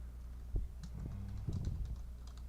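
Keys on a computer keyboard are tapped in short, soft bursts of clicks at close range against a quiet background hum.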